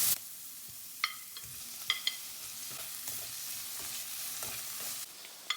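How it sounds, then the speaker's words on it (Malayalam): Tomatoes, onions and green chillies sauté in a pan for vegetable rice: a steady close sizzle broken by a few sharp spatula scrapes and knocks at irregular intervals, with no talking. "ഇപ്പോൾ ഇതാ തക്കാളി ഒന്ന് ചെറുതായിട്ട് വഴറ്റിയെടുത്തിട്ടുണ്ട്."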